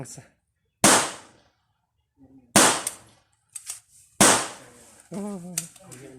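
A CZ 457 ATONE rifle with a 24-inch barrel fires three sharp, close shots several seconds apart, each cracking loudly and fading fast, with a voice speaking between the shots.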